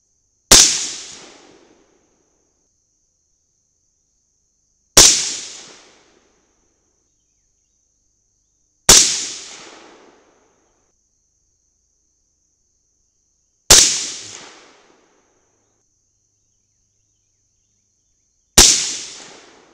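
Rifle shots from handloads with Sierra and Nosler bullets using AA2520 powder, a Mk 262 clone, fired at a range: five sharp, loud cracks spaced several seconds apart, each trailing off in a short echo, with silence between them.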